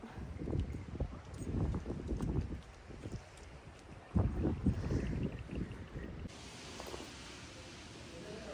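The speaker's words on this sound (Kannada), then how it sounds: "ಸೊ ಮುಗೀತು, ಸಿಕ್ಕಾಪಟ್ಟೆ ಗಾಳಿ ಇದೆ" Strong wind buffets the microphone outdoors near a restaurant on a road trip from Ooty to Mysore, loud broadband rumbling gusts rising and falling, with a sharp surge around the middle.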